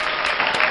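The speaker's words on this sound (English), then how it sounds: "And the crowd goes wild." A short burst of crowd applause, probably a canned sound effect, with dense bright clapping that stays loud and steady for under a second.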